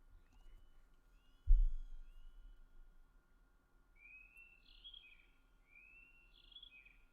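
Several faint, rising bird chirps and tweets from a colourful cartoon bird in an animated show, arriving in two short bursts over a quiet background after a single low thump.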